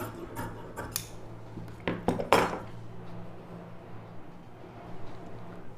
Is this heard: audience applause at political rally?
no